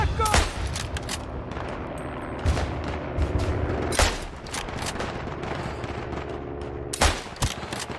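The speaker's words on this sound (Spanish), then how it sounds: "Me están disparando de todos lados" Rapid bursts of gunfire and heavy booms crackle across a World War I battlefield in the Isonzo shooter game, loud and dense with sharp shots at irregular intervals and a voice talking underneath.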